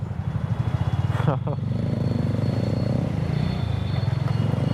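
A motorcycle rumbles steadily while riding along a road, its engine drone continuous and close, with a brief higher whine partway through; no words are spoken over it.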